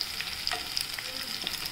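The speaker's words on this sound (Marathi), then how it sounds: "थोडंसं परतून घेऊया।" Garlic sautéing in a pan for lasuni gavar with cluster beans, a brief close sizzle with light stirring clicks and spatula scrapes, no voices.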